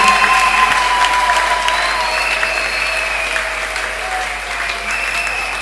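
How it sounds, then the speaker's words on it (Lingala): A church congregation claps and cheers loudly for the preachers, a dense, steady wash of applause lasting throughout, with faint voices mixed in. "On acclame très fort pour les prédicateurs."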